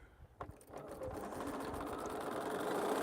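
A sewing machine stitches quilt blocks, starting after a few soft handling clicks and settling into a steady, even motor whir that holds to the end.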